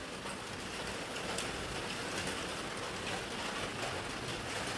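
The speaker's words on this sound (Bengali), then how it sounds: "আজকে সকাল থেকেই কেমন বৃষ্টি পড়ে যাচ্ছে।" Steady rain falls through a gloomy morning, a continuous even hiss of drops on surfaces that holds at a constant level from start to finish, with no one speaking.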